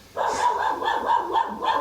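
Dog barking outdoors in a quick series of yips and barks, moderately loud and fairly close, with no talk over it.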